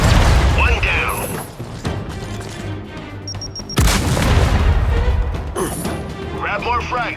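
A grenade explodes in the video game Gears 5 during bootcamp training, one sharp boom landing mid-clip amid ongoing game effects and spoken voices.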